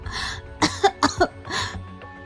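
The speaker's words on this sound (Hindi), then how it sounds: "डर से उसके गले में पानी अटक गया और वो जोरों से खांसने" A woman coughs hard after choking on water: a quick run of four forceful coughs, then a longer rasping one, close and clear with no talk.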